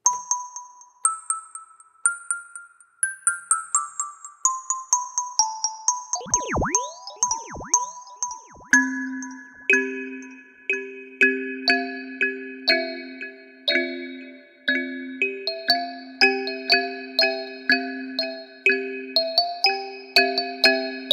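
Kalimba notes from the Kalimba Keys app on iOS, played with an echo effect: clean plucked metallic tones fall in a descending run, then settle into steady repeated patterns, each note trailing off in ringing repeats.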